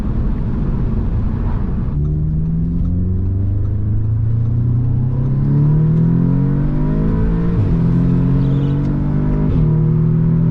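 Audi S3 8V after a high-pressure fuel pump install, its engine loud and close, accelerating hard through the gears with rising revs and brief dips at each shift, with no talk.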